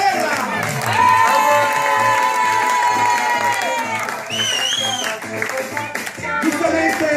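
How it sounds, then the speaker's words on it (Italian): Applause and cheering at a child's birthday party, steady clapping and whoops from a crowd under loud music and a host's voice, with a rising whistle-like shout midway. "Un applauso a voi!"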